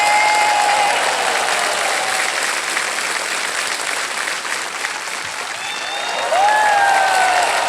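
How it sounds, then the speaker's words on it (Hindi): Studio audience on the KBC quiz show applauding a contestant's win of 3,20,000 rupees, a sustained, dense burst of clapping that stays loud throughout and swells near the end, with faint tonal music underneath. "ताली बज जाएगी।"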